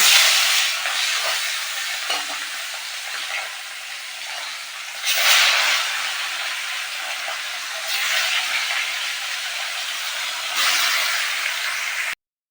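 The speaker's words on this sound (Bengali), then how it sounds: "মাছ তো ভাজতে বসিয়ে দিয়েছি" Steady loud sizzling hiss of fish frying in hot oil on a home gas stove, a continuous bright crackle that swells in waves and then cuts off abruptly.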